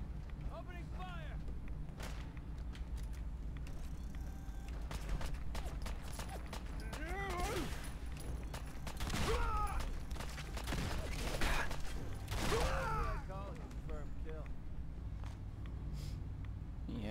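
Gunfire from the Fallout 4 video game during a raid on Quincy Quarries, with repeated bursts and sharp shots over a steady low rumble and a busy, noisy game mix.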